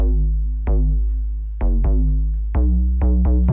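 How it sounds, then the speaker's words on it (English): Thick deep house bass built from a low sub layered with Serum synth basses, playing loud repeated notes in a steady rhythmic pattern with sharp attacks and decaying tails, alone without any voice. "So this is what they sound like together."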